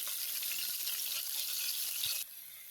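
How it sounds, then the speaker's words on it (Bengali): Bori lentil dumplings fry in hot oil in a home kitchen, a bright steady sizzle that cuts off abruptly before the end, with a faint utensil tap and no voices. "বড়ি দিয়ে দিচ্ছি, বড়িটাও ভেজে নিব, উল্টে এপাশ ওপাশ ভেজে নিব।"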